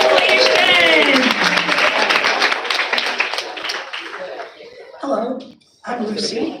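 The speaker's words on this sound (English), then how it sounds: "let's give everybody a round of applause again, graduates" A crowd gives a round of applause for graduates at a graduation celebration. Brisk clapping mixes with whoops and chatter, then thins out and fades, with brief bursts of voices near the end.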